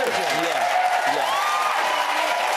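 A TV studio audience on a talk show applauds and cheers in a steady wash of clapping, while voices speak over the crowd noise.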